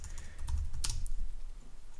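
A terminal command is typed on a computer keyboard during an Odoo server setup on Ubuntu, a quick burst of close, crisp keystrokes in an irregular rhythm.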